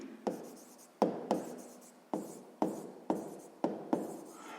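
Math notes are being handwritten, close and quiet, as about eight short scratchy strokes in a fairly regular rhythm, each starting sharply and fading out.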